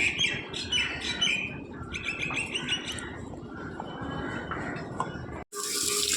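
A bird that comes daily to eat biscuits calls repeatedly with bright, chirpy notes, mixed with steady running water from a nearby tap, fairly faint overall, before a brief cut and a louder wash of water.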